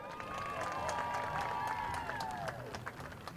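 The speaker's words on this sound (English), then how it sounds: "Let's have a round of applause for Miss Linda Straw." Crowd applause and cheering at a high school football senior night, steady dense clapping from the stands with overlapping voices and a high sustained tone running through it.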